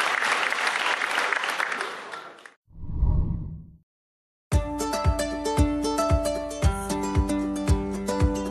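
Crowd at a kindergarten Easter musical stage show claps loudly and densely for a couple of seconds, then a whoosh sweeps past and lively music with a beat takes over.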